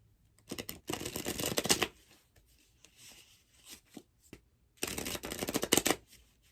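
Tarot cards shuffled in two brisk, close riffling bursts separated by a few soft handling taps, with no talking.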